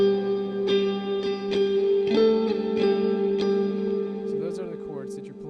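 Clean electric guitar plays ringing octave chords one after another, each strum trailing into a wash of reverb.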